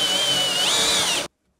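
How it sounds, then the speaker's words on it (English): A power drill bores a lock hole into a wooden door, running loud and steady with a high whine that rises briefly mid-way before cutting off abruptly into silence. "Allows you to keep it nice and rigid while we move into drilling the lock."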